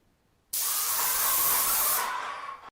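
A steady, loud hiss of high-pressure spray from an airless paint spray gun at 220 bar bursts on abruptly, holds for about a second and a half, then tapers off.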